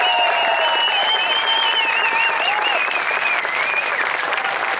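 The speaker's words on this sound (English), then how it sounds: "give him a big round of applause" A big round of applause for bodybuilder Ed Corney at his Muscle Beach Hall of Fame induction, steady dense clapping from an audience throughout, with whistles and a few cheers riding on top.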